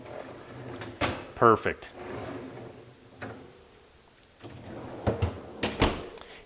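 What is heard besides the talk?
refrigerator freezer drawer rolling on wheels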